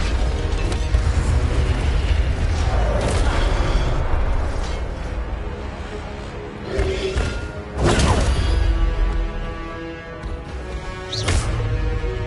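Incendio fire spell being cast in Hogwarts Legacy, producing loud whooshing, rumbling magical blasts with crashing impacts that swell and recur over dense game sound, with no voices.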